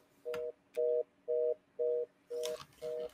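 A Yealink IP phone sounds a network warning signal: six evenly spaced mid-pitched beeps, steady and clear, with a short burst of faint handling noise near the end.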